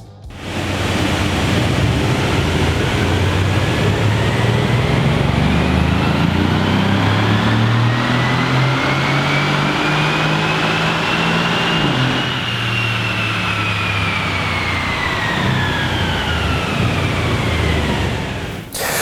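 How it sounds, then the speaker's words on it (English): A Mercedes C63 S engine revs on a dyno during a factory-stock run, a loud sustained roar whose pitch climbs steadily through the gears, peaks, then settles back. "we will carry out a factory dyno run and find out exactly what figures the car is putting out"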